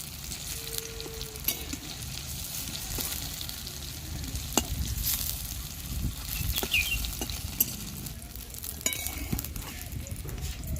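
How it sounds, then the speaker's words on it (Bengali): Egg and cabbage patties sizzle in mustard oil in a village kitchen, a soft steady frying hiss with occasional clinks and scraping of a utensil, fairly quiet and without talk. "কত সুন্দর ভাজা হচ্ছে"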